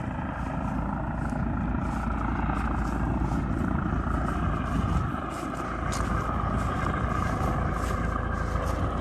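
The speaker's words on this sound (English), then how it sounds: "So we just had that helicopter behind us." A helicopter nearby at a paragliding training field gives a steady, loud rotor and engine drone that continues without break.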